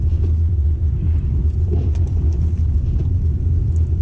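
A car climbs a snowy mountain road at Big Bear Lake before dawn, its engine a steady low rumble with tyre and road noise, continuous and close, with no voices.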